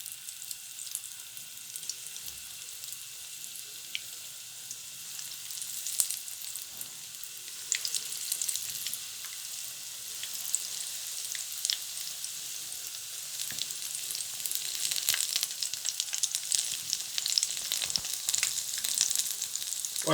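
Potato pakoras deep frying in hot oil, a continuous bubbling sizzle that runs throughout and grows slightly busier and louder over time, with scattered small pops and no talking.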